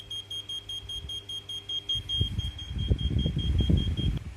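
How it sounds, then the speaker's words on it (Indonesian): A buzzer on an IoT water level monitor beeps in rapid, evenly spaced pulses as the tank reads full, a thin high tone that continues while a low rumbling noise rises underneath partway through. "LED dan buzzer akan menyala, hidup nyala dengan sangat cepat"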